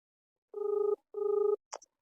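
A telephone rings twice in a buzzing double burst, followed by a short electronic chirp, with nothing else heard.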